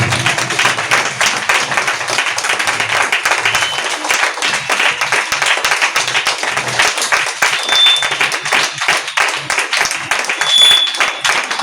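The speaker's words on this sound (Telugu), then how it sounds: "బిగ్గరగా చప్పట్లు కొట్టి దేవుని నామాన్ని మహిమపరచాలి" A church congregation clapping loudly in praise during a Telugu worship service, a dense, continuous wash of hands beating steadily for the whole stretch, with no talk over it.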